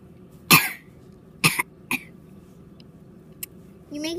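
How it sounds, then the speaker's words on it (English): A person gives a few sharp, close coughs, three bursts in quick succession, then a brief throat noise and the start of a voice at the end. "You're making me cough."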